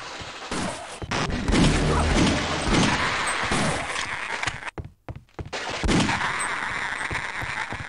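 A gun in Half-Life: Opposing Force fires in loud, heavy bursts, shots crashing in rapid clusters with a brief silent gap midway before the firing resumes.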